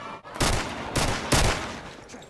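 Gunshots during a video game heist, three loud, broadband bursts spaced roughly half a second apart, each trailing off quickly, with no talk over them.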